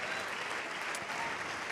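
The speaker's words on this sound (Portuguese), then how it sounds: "Vamos aplaudir ao Senhor Jesus," A church congregation applauds the Lord Jesus in a continuous, dense wash of clapping that holds steady and fairly loud throughout, with no voices standing out.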